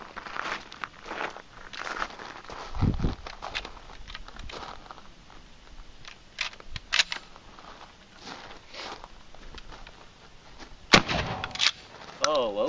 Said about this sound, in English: This is just a normal number 4 buckshot.